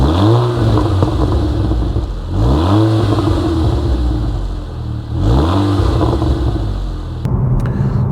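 A 2014 VW Scirocco R drives through town, its engine revving up in three distinct surges through the gears, each climbing in pitch before dropping back, loud and close.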